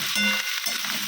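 Lentils hit hot oil in a pan with a sharp, bright sizzle that flares up and then settles into steady frying, close and fairly loud, with no voices.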